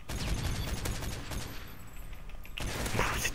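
Sustained gunfire and explosions from the video game Modern Warfare 3, a dense continuous barrage of loud shots and bursts that fills the whole stretch and swells again near the end.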